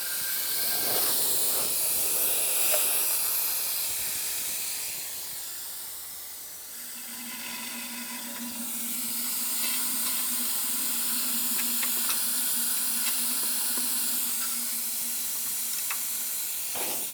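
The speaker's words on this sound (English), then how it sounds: "To remove the fluid, I'm going to be using a fluid extractor." A fluid extractor draws power steering fluid out of the reservoir on a 2007-2014 GMC Sierra 2500HD, a steady close hiss of suction with a low hum joining midway and faint clicks, no talking.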